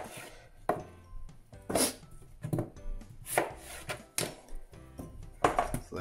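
Potatoes for roasting cut into smaller pieces on a board, a string of irregular knife chops thudding close up, each stroke followed by a brief scrape, with no talk.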